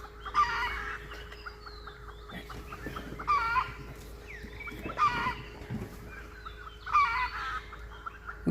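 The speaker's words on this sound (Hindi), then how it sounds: "जंगली मुर्गी and the other birds they are calling for the animal" Repeated clucking and crowing calls of jungle fowl ring out at intervals against a steady outdoor hum, moderately near, with no one talking.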